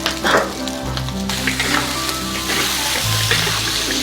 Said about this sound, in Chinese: 料炒香过后，放入1条根豆瓣儿